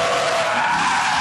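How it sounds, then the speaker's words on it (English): A yellow Corvette drifts sideways around a racetrack, its tires giving a loud, continuous skidding squeal in a single short burst. "tearing around the track in that yellow Corvette"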